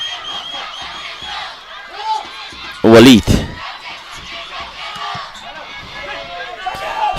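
Football crowd in the stands at a Bhutan Premier League match between Paro FC and RTC FC, a steady roar of cheering and chanting under close commentary, with a brief loud shout or horn burst midway.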